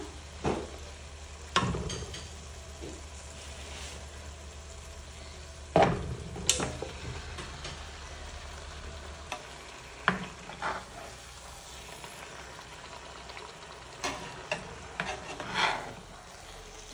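Spiced masala paste frying and being stirred in a pan for a Bangladeshi quail roast, a steady soft sizzle broken by scattered scraping strokes of a spoon against the pan.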